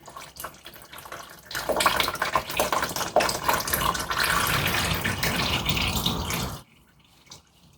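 Engine oil pours from the loosened drain plug of a 2005–08 Chevrolet Equinox as a steady, gushing stream for about five seconds, then stops abruptly.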